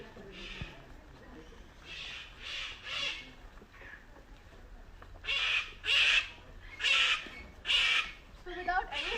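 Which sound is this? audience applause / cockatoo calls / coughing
cockatoo calls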